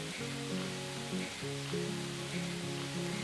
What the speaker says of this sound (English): I'm melting some butter with some capers to add to my sea bass